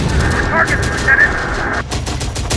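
Rapid bursts of gunfire in the Terminator Dark Fate Defiance video game, dense and continuous over a couple of seconds with a slight drop near the end, under game radio chatter.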